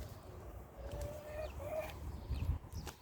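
A brooding hen gives soft, low clucks and a couple of drawn-out murmuring notes, faint and close amid quiet background rustle.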